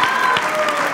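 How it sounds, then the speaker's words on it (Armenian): A concert-hall audience at a gala concert applauding loudly, a dense, steady wash of clapping with a voice talking over it. "Շատ բարձր է ծափարում դալիճը։"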